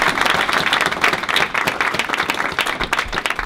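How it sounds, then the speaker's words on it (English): Audience applause after an evolution debate panel, a dense steady patter of many hands clapping at close range for several seconds, with a few louder claps near the end. "Y'all give these guys a round of applause."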